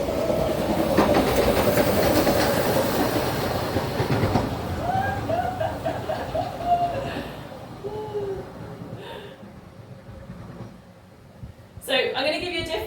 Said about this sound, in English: The train's about to go by, oh God.